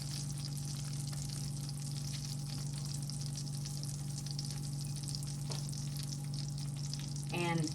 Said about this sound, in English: we're just gonna take this cut side down and put it in the pan